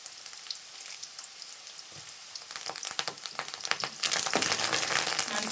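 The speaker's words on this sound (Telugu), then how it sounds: "అలాగే 2 ఎండుమిర్చి వేసేస్తున్నాను. మంచి పచ్చి కరివేపాకు వేసేస్తున్నాను." Dried red chilies and curry leaves hit hot oil alongside urad dal, giving a close, steady frying sizzle that swells sharply louder near the end, with no voices.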